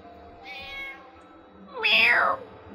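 A cat meows twice in the video game Final Fantasy IX, a soft drawn-out mew followed by a louder, sharper falling meow over a low game hum.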